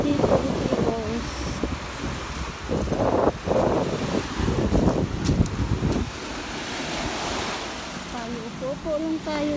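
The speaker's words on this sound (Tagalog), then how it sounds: "Ayan, laki ng alon." Ocean waves break and wash up on the seashore at Pandan, Bohol, loud and rushing, with wind buffeting the microphone and a voice speaking briefly in the middle.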